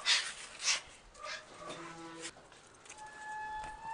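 A dog whimpers and whines in short high-pitched bursts, wanting to go out, fairly close, with faint background noise and a few soft yips.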